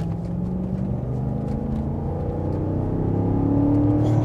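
A BMW X5 4.6is V8 engine hums steadily from inside the moving SUV, a low continuous drone that climbs gradually in pitch as it accelerates, with no talking over it.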